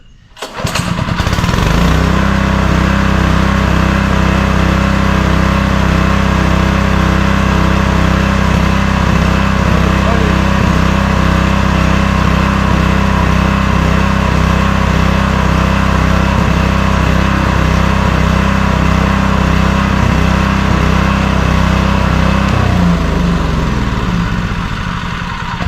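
A small gas welder generator's engine starts and runs steadily but roughly for a long stretch, loud and close, with a carburetor problem, then slows at the end.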